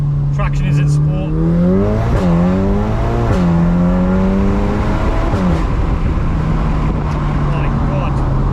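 Stage 3 VW MK8 Golf R, around 535 hp, accelerating hard in sport traction mode, engine climbing loudly through the revs with quick gear-change dips, close and dominant while someone talks over it.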